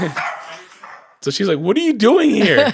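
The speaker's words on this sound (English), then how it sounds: "Those dogs just bark at everything like our dogs." Dogs bark inside a house with excited, high yips and yelps. The barking is loud and close and runs through the second half of the clip, with a person talking near the start.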